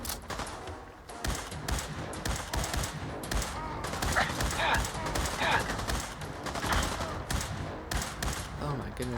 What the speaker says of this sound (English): we used the 4 rounds in our Lewis gun